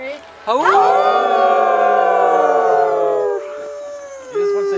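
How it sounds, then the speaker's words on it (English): A wolf howls in one long, sustained, close and loud note with rich harmonics that rises, holds and then tapers off, with a shorter howl starting at the end. "He's howling with his head up."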